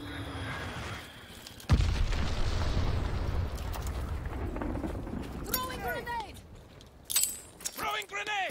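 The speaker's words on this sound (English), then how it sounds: "Throwing grenade!" A grenade goes off in the online multiplayer shooter Call of Duty: Vanguard, landing as a loud, sudden boom followed by a rumbling tail amid gunfire and other game effects, with in-game voice callouts heard afterward.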